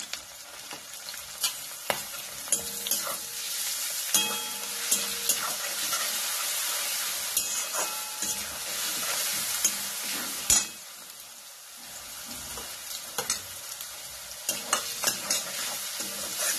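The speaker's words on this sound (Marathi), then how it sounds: "पुन्हाही चांगलं हलवायचं." Ginger, garlic and green chili paste stirred into a sizzling frying pan for veg Manchurian, a constant hissing fry with repeated spatula scrapes and knocks, one louder clatter midway, and no voices.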